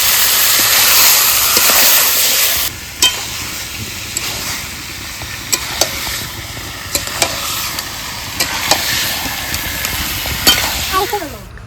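Meat frying with already-browned onions in a pot gives a loud steady sizzle that drops after a few seconds, punctuated by repeated sharp clacks and scrapes of a utensil stirring.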